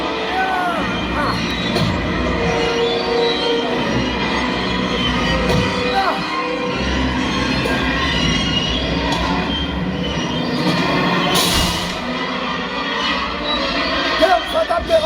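An outdoor stage show stages a train derailment after an explosion. Rumbling rail clatter and squealing wheels churn continuously, and a sharp burst comes near the end. Voices and crowd noise mix in underneath.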